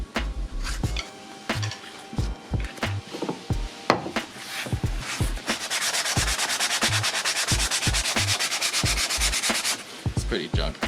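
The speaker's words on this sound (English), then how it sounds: "I'm just gonna sand it down" Close, steady scraping of 240-grit sandpaper on a car's e-brake handle, short bursty strokes with soft knocks at first, then a continuous rapid back-and-forth rubbing that runs unbroken for several seconds before easing off.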